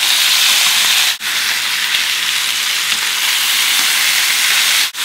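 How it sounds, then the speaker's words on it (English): Steaks sear in a hot pan with a loud, dense, continuous sizzle close by. The hiss dips briefly twice and then returns at full strength. "So those have been searing for about a minute now."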